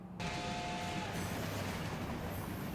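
Continuous rumble of a train in the anime Fullmetal Alchemist: Brotherhood, a steady rolling roar with a faint tonal hum early on, no voices.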